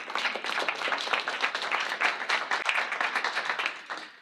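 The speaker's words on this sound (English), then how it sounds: "Give yourselves a round of applause for being here." About a hundred attendees at an evening pitch training camp applaud themselves, a brisk, lively burst of clapping from a room-sized crowd, fairly close and uneven, fading slightly at the end.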